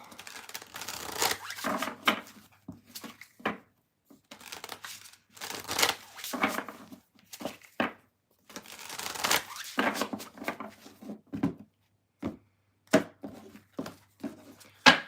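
Tarot cards being shuffled by hand in repeated bursts of riffling and flicking, with short pauses between rounds, close and moderately loud.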